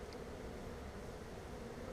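Bees buzzing steadily around a hive entrance as foragers fly in and out carrying bright yellow pollen, a soft continuous drone with no talk.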